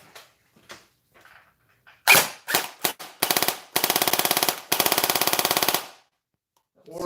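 A repaired gel blaster toy gun is test-fired up close. A few single sharp snaps are followed by longer rapid-fire bursts of mechanical clatter, then a brief pause and another short shot.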